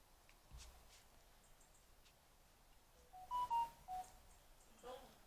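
A mobile phone gives a short tonal notification of a few quick electronic beeps, faint in a quiet room where someone crafts a small Christmas house and voices murmur.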